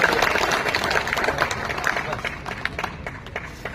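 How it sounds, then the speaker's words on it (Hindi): An audience at a poetry gathering claps and cheers, a loud, busy crowd sound with a few louder individual claps standing out over a continuous murmur of voices. "ताली बजा सकते"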